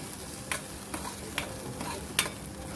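Masala sautéing in a pan for raw mango kadhi, a soft steady sizzle with several sharp scraping stirs of the spoon spaced irregularly, close and fairly quiet.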